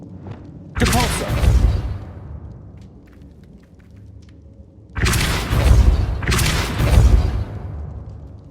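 Depulso spell blasts in Hogwarts Legacy, a force spell meant to set an object spinning: three loud booming bursts, one early and two back-to-back later, each with a rumbling decay over quiet game ambience.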